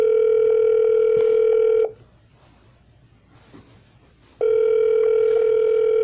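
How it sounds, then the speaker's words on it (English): A phone line's recording tone sounds before a voicemail message is left, loud and steady, playing for about two seconds, pausing in near silence, then sounding again. "At the tone, please record your message."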